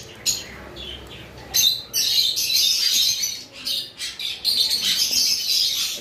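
Pet birds in a bird shop, including masked lovebirds, chirping and squawking in close, loud bursts that overlap with short gaps between them, and no talking.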